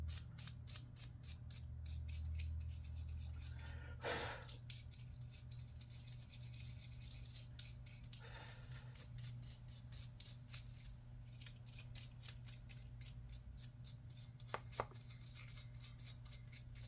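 Dirt is scraped off an engine part from a large Snapper walk-behind mower in quick rhythmic strokes, a sustained near rasping broken by a few louder scrapes, with no voices.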